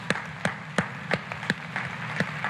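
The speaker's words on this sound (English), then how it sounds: "Please clap." A few scattered hand claps in a small room, irregular and sparse, roughly one every third of a second, over a low background murmur.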